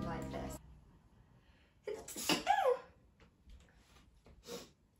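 A single sharp human sneeze bursts out after a brief inhale, with someone speaking softly before and some light breathing and rustling after it.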